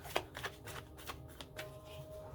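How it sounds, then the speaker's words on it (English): A deck of tarot cards being shuffled, a series of quick crisp riffling bursts about every half second, close and fairly quiet. "even your cards have been really easy to shuffle as well"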